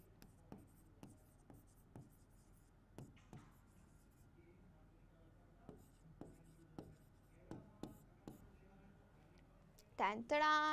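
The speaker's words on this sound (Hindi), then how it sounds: "लिख देते हैं एक लाइन" Pen writing a line of text on paper during a maths lesson, with a steady series of short scratchy strokes at close range, quiet, followed by a brief voice at the end.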